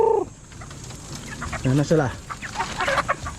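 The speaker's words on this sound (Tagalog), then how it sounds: "ipapakita ko na sa inyo yung mga manok natin." Five-month-old chickens clucking nearby in short bursts, with a person talking over them.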